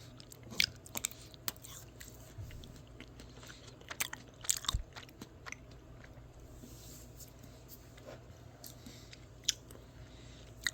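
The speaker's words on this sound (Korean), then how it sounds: "한번더 먹어볼게요" Someone bites into and chews Natuur Dolce Maple & Nuts ice cream with nut pieces, giving soft, close crunches and wet chewing clicks that come and go irregularly at low volume.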